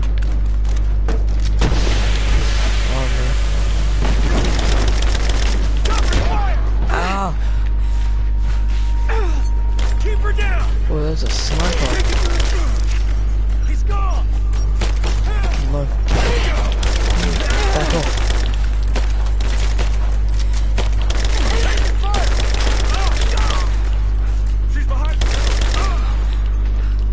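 Covering gunfire in the action game Rise of the Tomb Raider, irregular bursts and booms scattered across a long stretch, with gasps and a voice speaking in between.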